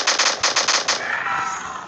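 Gunfire from soldiers' guns in the zombie battle tycoon video game: a rapid burst of about eight sharp shots in the first second, then a fading hissing tail.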